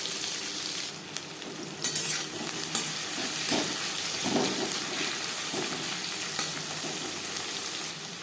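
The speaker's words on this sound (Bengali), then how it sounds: "চার পাঁচ চামচ রিফাইন্ড অয়েল গরম করে নিয়েছি দিয়ে দিলাম পেঁয়াজ কুচি চার পাঁচটা চেরা কাঁচা লঙ্কা" Chopped onions and a few slit green chilies frying in hot refined oil, a steady close sizzle with scraping stirs and clinks of a utensil against the pan throughout.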